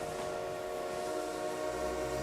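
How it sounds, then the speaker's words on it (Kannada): A train arriving in the mobile battle game BGMI, heard as a steady rumbling rail sound with sustained tonal whistle-like lines, loud and continuous throughout with no talk over it. "ಟ್ರೈನ್ ಬಂತು ನೋಡಪ್ಪ ಟ್ರೈನ್"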